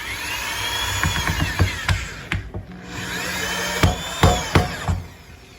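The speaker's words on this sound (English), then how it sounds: "So you just want to screw in a screw on each corner." Power screwdriver driving screws into the corners of a steel counter sleeve: repeated short whirring bursts with winding-up pitch and sharp clicks, fairly close and loud, with no talk.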